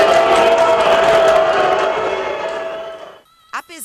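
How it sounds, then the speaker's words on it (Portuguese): A stadium crowd boos the goalkeeper after a goal in a Brazilian football match, a loud sustained roar of many voices that fades out, followed by a brief whistle-like sound at the end. "Depois do gol, uma chuva de vaias para o goleiro."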